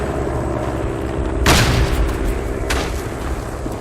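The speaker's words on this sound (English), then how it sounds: "That was an enemy grenade, so it doesn't hurt me." Enemy grenade going off in the WWI shooter Tannenberg, one deep boom over constant battlefield noise, followed a moment later by a fainter second blast.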